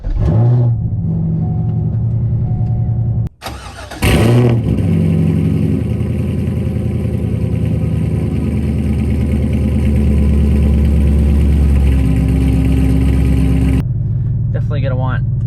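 Loud, close C5 Corvette engine fitted with a Callaway Honker intake, heard while driving: a steady heavy drone that rises and falls through gears, with a brief drop near the start before the roar resumes.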